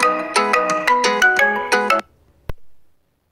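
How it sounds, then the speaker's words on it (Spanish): A mobile phone ringtone plays loudly as a repeating melodic chime for about two seconds, then cuts off, followed by a single sharp click; no talk during it. "Espérense un momentico y le hacemos la llamada al celular."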